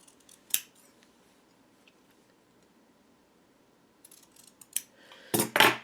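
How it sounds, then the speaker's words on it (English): Scissors trimming fabric for a quilt block snip near and clear: a single cut, a pause of quiet, then a cluster of sharp snips and blade clicks toward the end. "This time, I'm just trimming with my scissors."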